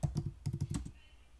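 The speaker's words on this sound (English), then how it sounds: "when I click into it, I can start typing" Quick bursts of keystrokes on a computer keyboard, close and crisp, typing into an app's search bar, about eight clicks in under a second before the room falls quiet.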